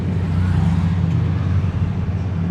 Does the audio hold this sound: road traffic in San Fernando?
yes